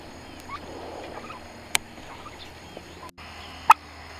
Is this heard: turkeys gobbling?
yes